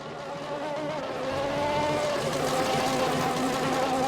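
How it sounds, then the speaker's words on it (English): A McLaren race car engine in a racing video game, set at Singapore, runs rough and unhealthy, a steady loud buzzing drone that holds level and rises slightly without a break. "That car does not sound healthy."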